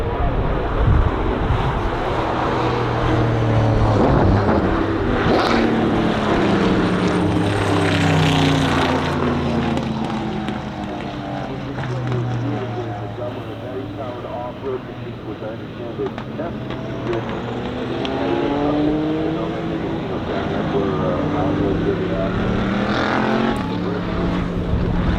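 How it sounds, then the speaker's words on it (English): A Porsche race car tears past at Laguna Seca, its loud engine note rising and falling in sweeping passes, with a steady roar of other engines and crowd noise filling the background. "this next clip is Laguna Seca, and you're gonna hear this Porsche just"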